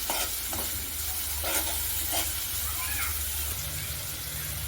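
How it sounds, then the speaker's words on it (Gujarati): Spice masala for green corn chevda is stirred in a pan with tomatoes and onions. The spoon scrapes and swishes in a few soft strokes over a faint, steady sizzle, and there is no talking. "હવે આ મસાલાને આપણે બધા જ સારી રીતે મિક્સ કરી લઈશું"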